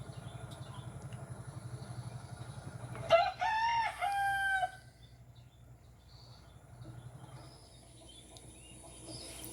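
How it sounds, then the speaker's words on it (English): A meat chicken's rooster-like crow rings out clearly for about two seconds over a steady low engine hum that continues throughout. "You can hear these meat chickens are starting to crow"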